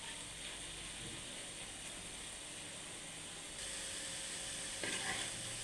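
Prawns cooking with watermelon rind fry in a pan with a constant hissing sizzle, faint and even, growing slightly louder partway through, with occasional soft scrapes of stirring and no speech.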